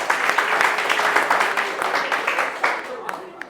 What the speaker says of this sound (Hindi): ताली बजाओ, ताली बजाओ, ताली बजाओ, ताली बजाओ।